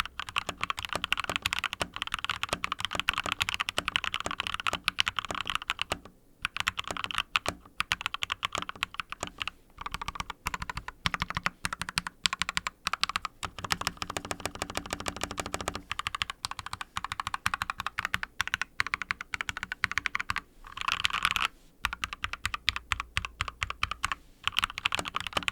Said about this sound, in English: mechanical keyboards are all about the sound